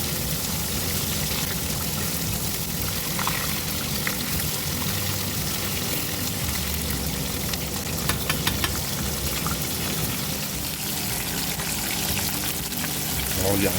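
Breaded oysters from an Asian market fry in a pot of hot oil, a loud continuous bubbling hiss with a few small clinks as they are flipped.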